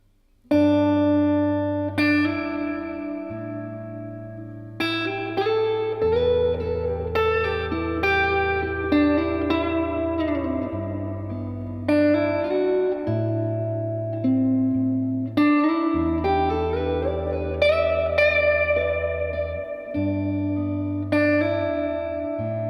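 Clean electric Stratocaster guitar through a Milkman Half Pint amp with reverb turned up full, playing sustained chords and ringing notes that bloom into a wide, washy tail, loud and alone with no talking.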